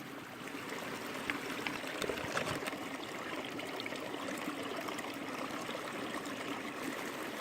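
Filtered water running steadily into a 3-liter Platypus water bag beside Cliff Lake, a soft continuous trickling and gurgling stream, fairly close and even throughout with no talking.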